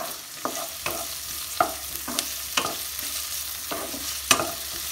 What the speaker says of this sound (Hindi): इसको 2 से 3 मिनट हम फ्राई कर लेंगे मीडियम फ्लेम पर